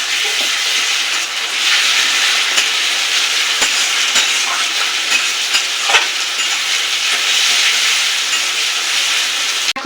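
Ginger-garlic paste hits a browned spice mix frying for a Bengali beef and eggplant curry, setting off a loud, continuous close sizzle with a few sharp spatula knocks; no voices.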